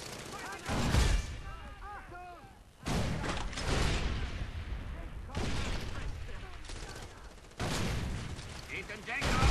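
A grenade blast from the Far Cry 3 game lands amid loud booming gunfire, several heavy bursts rolling across the shooter action while players talk over the din.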